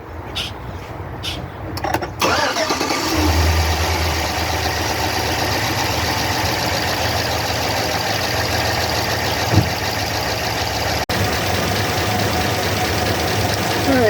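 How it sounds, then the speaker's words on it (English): High-mileage 2004 Chevrolet Silverado 4x4 plow truck engine cranking briefly, catching and settling into a steady, loud idle with a slight knocking texture that continues unbroken. "we'll fire it up and just let it run for about a half an hour and see if it quiets down"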